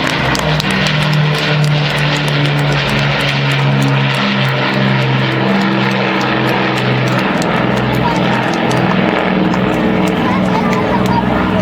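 A propeller-driven aircraft, first flown in 1968 at RAF Waddington, drones loudly and steadily overhead at the Herne Bay Airshow. A commentator's voice runs over the engine throughout.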